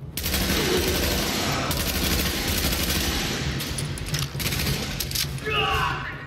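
Marksman rifle fire in The Division, a dense run of loud shots and gunfire echoes in a busy firefight, with brief voices and chatter mixed in.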